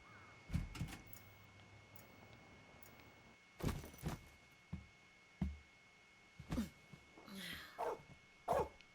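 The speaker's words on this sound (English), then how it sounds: "Dog." A dog in the video game Persona 4 Arena Ultimax barks in several short, sharp bursts spread across the scene, moderately loud against a quiet background with a steady faint tone.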